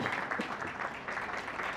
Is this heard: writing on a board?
no